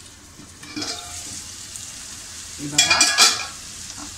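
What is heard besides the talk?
capsicum cooking on a tawa for tawa pulao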